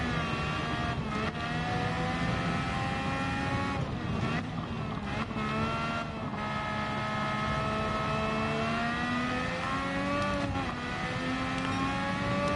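Honda Formula 1 race car engine in Gran Turismo 7, a loud, steady high-pitched whine with rising and falling pitch through gear changes and brief lifts, continuous throughout without talk.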